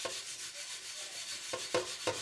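A pot being scrubbed with a metal scourer makes soft continuous rubbing and scraping, with a few sharper strokes near the end.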